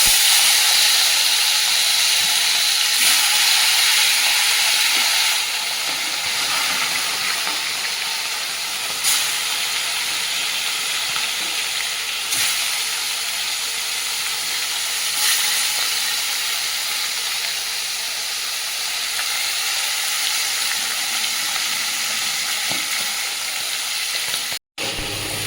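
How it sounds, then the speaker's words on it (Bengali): Fish frying in hot oil in a wok, a loud, steady sizzle and hiss that fills the whole stretch without a break, with no talking over it. "এদিকে কড়াইটা গরম হয়ে গেছে, তেল দিয়ে দিয়েছি, মাছগুলো ভেজে নেব।"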